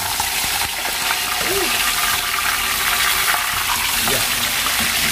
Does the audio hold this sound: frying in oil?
yes